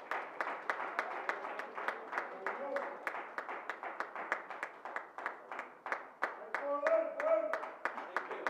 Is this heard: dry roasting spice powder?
no